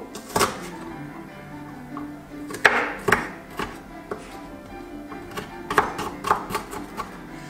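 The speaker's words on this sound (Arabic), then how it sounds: "حاولوا البنات انكم تقصوا البصل قطع صغيره، تقصوهمش كبار" A knife chops onion into small pieces, making irregular sharp taps on a board that come in short bursts, close and moderately loud, with a faint background hum.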